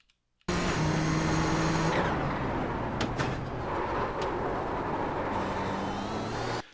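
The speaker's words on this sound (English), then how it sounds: "that was a downshift to fourth and then into second at that point in time" A Nissan GTP ZX-T racing car engine in iRacing at Mount Panorama drones loudly and continuously, its pitch dropping as it downshifts, with a few brief sharp transients mid-run and no speech.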